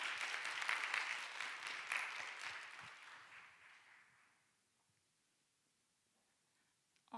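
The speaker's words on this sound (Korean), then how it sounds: "인사하고 들어가실 때 큰 박수로 환영해 드릴게요" Congregation applause welcomes a pastor at a Sunday young adults' joint worship service, fairly faint and spread out, tapering away over a few seconds into near silence.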